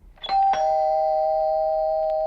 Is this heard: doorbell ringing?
yes